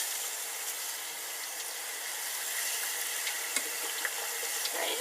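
Beer-battered fish frying in very hot oil, a steady broadband sizzle with faint crackles and a few sharp pops toward the end, close and unbroken, no voices.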